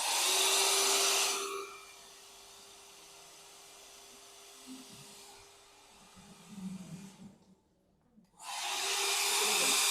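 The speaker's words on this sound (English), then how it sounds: "Dry it with the help of the dryer." A dryer blows air over a plate in a lab during quinine extraction from cinchona bark, a loud rushing hiss that drops to a softer flow, cuts out briefly, then roars back at full strength.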